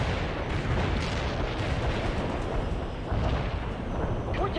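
Continuous rumbling artillery barrage in the real-time strategy game World in Conflict, dense overlapping booms and distant blasts forming a steady roar with a few sharper impacts toward the end.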